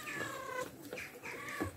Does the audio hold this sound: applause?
no